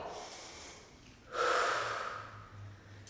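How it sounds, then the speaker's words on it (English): A person doing Pilates lunge twists takes a quick sharp breath in and then lets out a long, audible exhale, close and clear with no talking. "breathe in, exhale, breathe in,"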